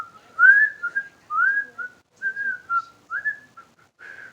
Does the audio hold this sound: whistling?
yes